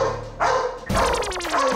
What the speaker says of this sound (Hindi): ये नॉट नॉट नाइन तो यही भौंक रहा है।